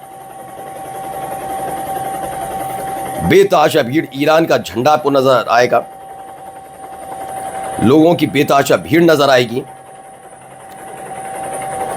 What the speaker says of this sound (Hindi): आवाज भी आ रही होगी आपको हेलीकॉप्टर की